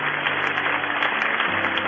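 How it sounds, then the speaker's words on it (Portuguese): A church congregation gives long, sustained applause, a dense, steady wash of clapping that fills the whole stretch without a break. "Um demorado aplauso ao Deus das excelências"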